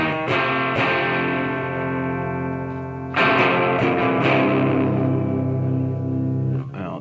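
Electric guitar chords played through a DOD Boneshaker distortion pedal set to about 12 o'clock, a few sustained strums ringing out with a fuzzy, saturated tone.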